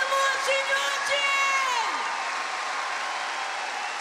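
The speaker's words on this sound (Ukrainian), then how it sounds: "Аплодисменты, Андрей, мы тебя слышим!" Applause and scattered cheers rise from the audience at a Scriabin memorial concert, fading gradually while a voice speaks over it.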